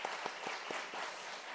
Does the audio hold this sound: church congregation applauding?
yes